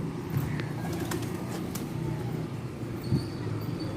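Pigeons are picked up and let go in Karachi, with soft coos and brief wing flutters over a low background hum and distant traffic, no talking.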